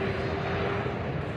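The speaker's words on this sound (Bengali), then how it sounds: "বাংলাদেশ বিমান বোয়িং 787-8 বিমানটি এই যে ল্যান্ডিং করে ফেলছে" Biman Bangladesh Boeing 787-8 airliner coming in to land at an airport, a steady broad engine roar with a faint sustained whine, heard from a distance without talk.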